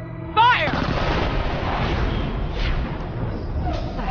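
Firing-squad gunfire in the video game Borderlands: The Pre-Sequel, a sharp loud volley of shots followed by a sustained rumbling, crackling burst.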